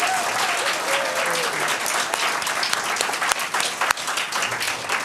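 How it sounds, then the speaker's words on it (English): Sustained audience applause at a conference closing session, dense and steady clapping from a full room with a few sharper claps standing out and faint voices underneath. "I'll clap for our staff too."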